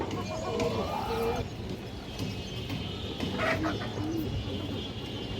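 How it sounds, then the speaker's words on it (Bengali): Pigeons coo around a large male pigeon with deep red eyes held in hand, soft repeated calls under a continuous background hum, with someone speaking over them. "এটা হচ্ছে নর কবুতরটা"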